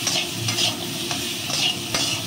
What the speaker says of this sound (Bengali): মশলাটা নিয়ে একটু সামান্য কষবো